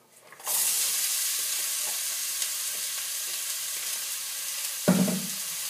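Onions hit hot olive oil in a pot and burst into a loud, steady sizzle that holds evenly for several seconds, ending with a short clatter near the end.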